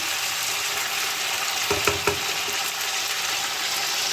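Chicken frying in a pan for a Bengali chicken-and-potato curry, a steady broadband sizzle with a few brief clinks of stirring near the middle, close and continuous with no talk.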